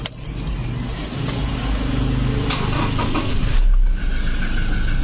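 A Toyota Innova with an airbag clock spring repair is started with the key: a jangle of keys, then the engine cranks and settles into a loud steady idle close by.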